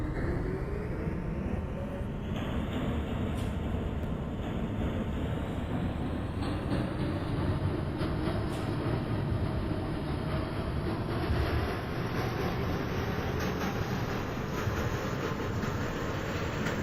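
New York subway 3 train running through the OpenBVE train simulator game, a continuous loud rumbling roar with a slowly rising whine, steady throughout with no talk.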